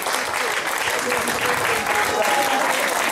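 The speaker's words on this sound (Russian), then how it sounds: "давайте похлопаем друг друга за эту прекрасную атмосферу" A festival audience at a bard festival charity auction applauds steadily, a dense wash of many hands clapping throughout, loud and close.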